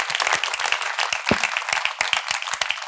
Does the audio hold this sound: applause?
yes